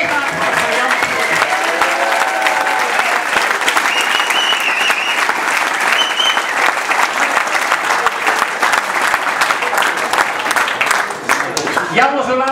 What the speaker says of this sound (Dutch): En ik wil het mega applaus van Jammers.